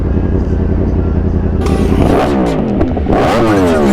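A 2021 Yamaha R1 sport bike revs loudly and continuously during wheelie practice, its engine note climbing and sweeping in rising and falling pitch bursts, close and dominant throughout.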